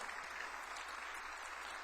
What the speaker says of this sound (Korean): 우리 하나님께 영광의 박수를 올려드리도록 하겠습니다.